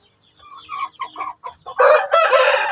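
A hen that cannot stand clucks in a series of short, close calls, building into a louder, sustained squawking burst near the end.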